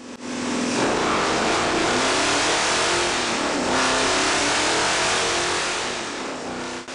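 A Dodge Charger with a big V8 accelerates hard, a loud, dense engine roar that holds steady and close for the whole stretch with no talking.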